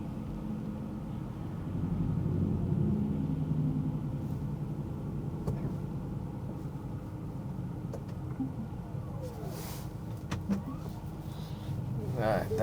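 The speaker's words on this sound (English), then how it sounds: "I'll let this truck pass." A truck rumbles past on a rainy road, a low swelling drone that rises and fades over several seconds against steady car-interior noise, with a few sharp clicks near the end.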